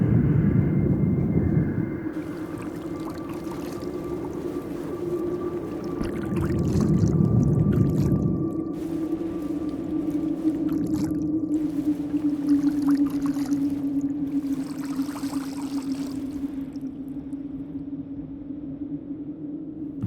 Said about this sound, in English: Let's keep moving through here and swim to the shoreline